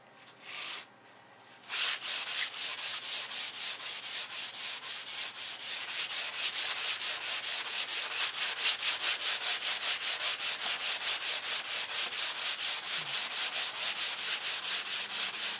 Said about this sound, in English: you don't want to sand this too thin, because then the dope will attack it